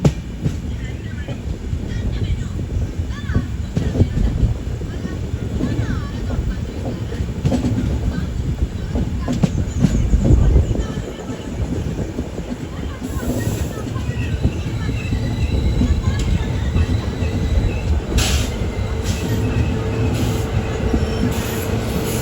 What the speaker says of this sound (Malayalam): ട്രെയിൻ ഇപ്പോൾ എറണാകുളം ടൗൺ റെയിൽവേ സ്റ്റേഷനിലേക്ക് എത്തിക്കൊണ്ടിരിക്കുകയാണ്.